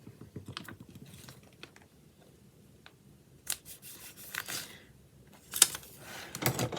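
Sharpened Fiskars scissors snip through paper in a string of quick, crisp cuts, close and fairly quiet, with a few louder rustles and crunches and no talking.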